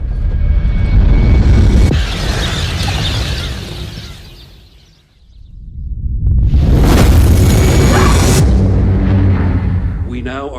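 A deep, rumbling explosion swells and fades, followed by a second loud roaring boom, with voices speaking over the noise.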